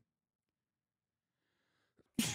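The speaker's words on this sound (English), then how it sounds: "I just sneezed so hard." A single hard sneeze bursts out loud and close at the very end, after near silence broken only by a faint breath or rustle.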